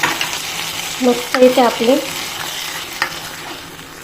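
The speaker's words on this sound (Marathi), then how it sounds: "आता ही फोडणी याच्यात टाकून घेऊ." Hot spiced tempering poured into wheat kheer sweetened with melted jaggery gives a close sizzle and stir that fades over a few seconds, with someone speaking briefly over it.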